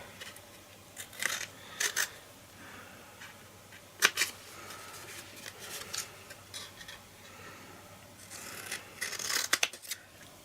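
Scissors snip through card for a floral birthday card, giving short crisp cuts in small clusters with quiet pauses between them, close and fairly soft, and no voice over them.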